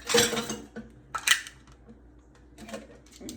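Dishes and utensils set into a kitchen sink while making pineapple lemonade: a few close clattering clinks of metal and crockery separated by quiet gaps.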